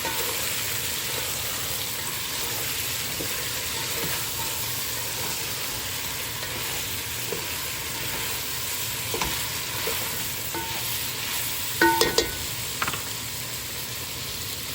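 Salted vegetable pieces for a veg pulav are stirred in a hot pan, a continuous close sizzle with a few light utensil clinks near the end and no speech.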